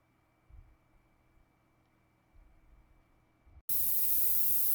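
Air hissing out of a screw puncture in a car tire, a sudden loud steady rush of high hiss that starts abruptly after a few quiet seconds of faint handling noise and continues unbroken.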